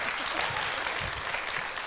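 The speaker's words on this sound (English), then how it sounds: "Give a round of applause." Steady applause from an audience, dense clapping that holds at an even level throughout.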